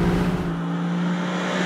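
A Lexus LC500 Convertible's engine sounds in a loud, continuous droning note with strong low harmonics, captured close up, with no talk over it.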